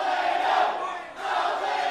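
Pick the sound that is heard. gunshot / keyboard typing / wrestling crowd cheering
wrestling crowd cheering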